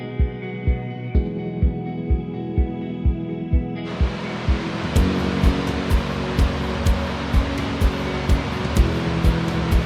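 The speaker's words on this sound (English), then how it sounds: "all along here, we hear this water rumbling and rolling" Creek water rumbles and rolls steadily along a hiking trail in Idaho, a continuous broadband rush that grows fuller partway through, with a regular series of soft thumps like footsteps running throughout.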